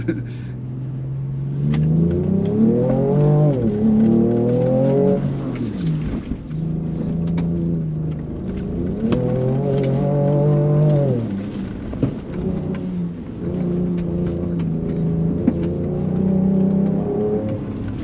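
Ford Ranger Raptor pickup driven hard on a muddy hot lap, engine revving up and down in repeated surges through gear changes, loud and close from inside the cab.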